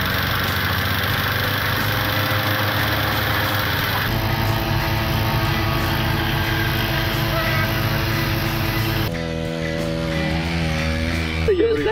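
A Mofa moped engine idles with a steady buzzing drone that holds throughout, its pitch shifting slightly toward the end.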